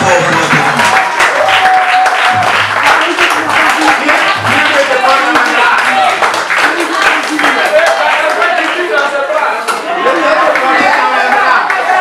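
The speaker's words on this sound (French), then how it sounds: "quand je demande d'applaudir fort" Wedding guests applauding loudly, a dense, steady wash of clapping lasting throughout, with crowd chatter mixed in.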